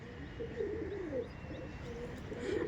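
Rampuri red-vein pigeons coo softly in a few rolling phrases, quiet and somewhat distant, over a low hiss of room noise.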